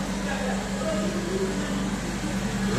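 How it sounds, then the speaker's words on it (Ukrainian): A power generator runs during a blackout in Lutsk, giving a steady low mechanical hum and drone from start to finish, close and fairly loud, with no clear talk over it. "у нас в Луцьку нема світла, працює генератор"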